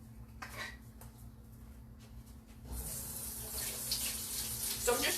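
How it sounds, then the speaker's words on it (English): Tap water runs steadily into a sink to rinse a cutting board, a soft hiss that grows louder midway, with faint clinks of kitchenware. "So I'm just rinsing off my cutting board because I'm going to use it again."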